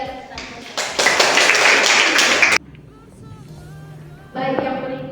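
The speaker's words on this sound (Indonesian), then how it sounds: "Kita berikan tepuk tangan." An audience in a school classroom bursts into loud, dense hand clapping for about two seconds, after which the room goes quiet with some faint voices, and then a second, shorter round of clapping starts.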